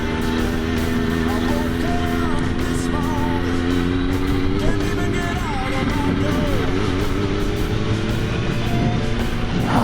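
A Triumph Speed Four motorcycle engine droning steadily while riding, with slight surges in pitch, the hum continuous and close, and a rider talking over it.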